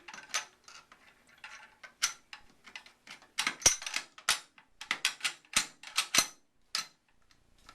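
An AK-47 bolt slides back onto the rifle as a close run of metallic clicks, scrapes and sharp clacks, crisp and fairly quiet with brief pauses, no talk.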